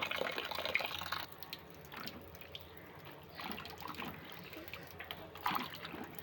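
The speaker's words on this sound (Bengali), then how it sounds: "এখন এগুলোকে ভালো করে জল দিয়ে ধুয়ে নেব।" Small pieces of raw green mango are washed in water in a bowl for homemade aamsotto, with gentle splashing and sloshing, a louder burst at the start and quieter swishing afterward.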